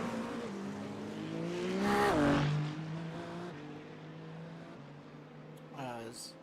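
LMP2 prototype race cars accelerate out of Arnage corner. One engine's pitch rises and falls as it passes close by, and a second car screams through near the end, with a voice faintly underneath.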